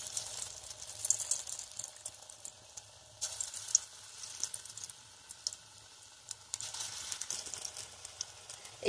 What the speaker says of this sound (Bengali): এবার আমি তেলের মধ্যে একে একে পকোড়াগুলো ছেড়ে দেবো। দেখো তেলটা গরম হয়ে গেছে।